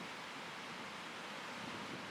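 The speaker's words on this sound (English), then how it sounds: "Wow, big waves over there." Large ocean waves break on an offshore reef near a tropical island in Chuuk, heard as a steady, far-off broadband roar with no voices.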